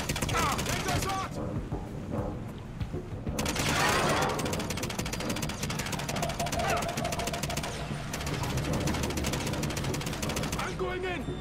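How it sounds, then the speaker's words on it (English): Heavy automatic gunfire rattles in a dense, continuous barrage through a firefight in the video game 007: Quantum of Solace, with voices shouting over the shooting. "We're taking heavy fire!"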